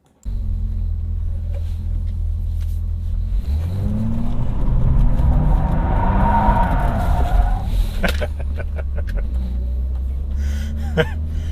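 A 1990 BMW 325iS E30 idles, then accelerates with a rising, throaty engine note that swells loudly mid-clip before settling into a steady cabin rumble, with a few sharp clicks near the end.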